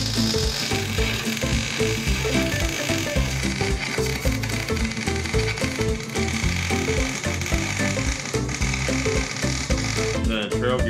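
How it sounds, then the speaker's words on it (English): A die grinder cleans up a steering ram mount on a budget hydraulic assist steering setup, a loud continuous high whine and grinding buzz that holds steady at close range with faint shifts in pitch. "So I just gotta get in here and clean this up with a die grinder"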